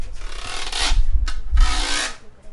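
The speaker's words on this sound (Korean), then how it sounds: "이 기로는 연주를 이렇게 긁어서." A guiro is scraped in a Latin percussion demonstration, producing two long rasping strokes with a short scratch between them, close and loud and unaccompanied.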